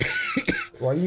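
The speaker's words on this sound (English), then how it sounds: "That was a cough." A short cough bursts out amid a voice in conversation, a quick rough expulsion within about a second of speech.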